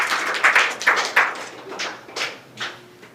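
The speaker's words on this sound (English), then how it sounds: "Let us give them a hearty clap." Hands clap in short, uneven bursts at a disability apprenticeship launch event, a handful of sharp claps up close that thin out over a few seconds, with no voices over them.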